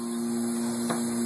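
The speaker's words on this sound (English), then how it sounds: "that's the vacuum contact printer going." A constant low machine hum from a vacuum contact printer exposing a negative for carbon transfer printing, with a faint higher whine, steady and unchanging, with one brief soft click partway through.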